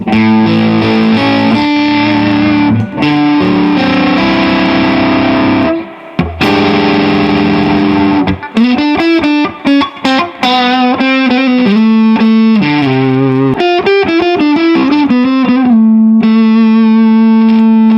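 Shadow S110 electric guitar played through distortion with the pickup selector in position 4, loud sustained chords and riffs with brief pauses, close and alone without talk.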